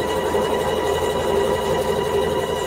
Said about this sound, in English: I just had this machine serviced, and it feels like butter, you know, like I'm just sewing so smooth